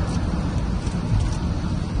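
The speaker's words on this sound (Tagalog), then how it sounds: "It's raining. Lakas ng ulan," Heavy rain pours steadily in Singapore, a dense, continuous low roar with wind-like rushing and no pauses, loud and close throughout.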